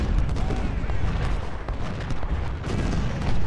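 Dense, continuous battlefield gunfire and booming artillery from the Civil War strategy game Ultimate General: Civil War, a steady roar of overlapping shots under faint talk.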